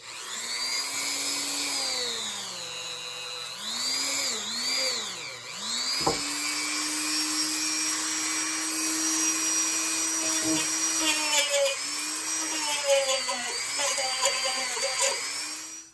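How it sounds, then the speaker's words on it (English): A high, whining rotary tool with a buffing wheel spins continuously, its pitch sliding up and down as it polishes a metal pierced pendant, with brief scraping bursts along the way. "use a buffing wheel on those tools to buff your piece up."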